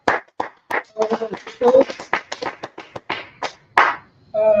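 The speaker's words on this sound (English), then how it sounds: "Let's clap it up." A few people in a Tuesday brotherhood class clap their hands in short, uneven bursts, close and sharp, with brief pauses between the claps.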